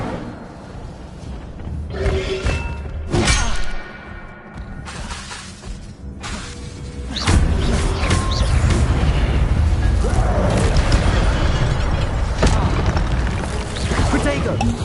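Fire spell blasts in the Hogwarts Legacy video game, a series of loud crackling, shattering bursts with a heavy rumbling roar building midway and sustained to the end, mixed with game effects and a voice.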